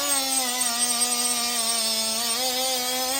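A Milwaukee power tool whines at a steady high pitch while smoothing imperfections on a CFMOTO clutch shaft, one continuous close grinding tone without pauses.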